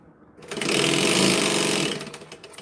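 Sewing machine basting stitches on a handmade goblin wallet, a steady mechanical whir that rises quickly, holds for about a second and a half, then winds down, fairly close and with no voices over it.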